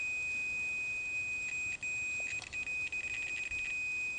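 A multimeter's continuity beep sounds as one steady, high, unbroken tone, close and clear, lasting the whole moment over quiet surroundings.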